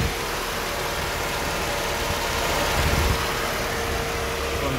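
A 1993/94 Mercedes-Benz 300GE manual 4x4 engine idles smoothly and evenly at close range, a steady hum with no knocks or revving, running unbroken throughout.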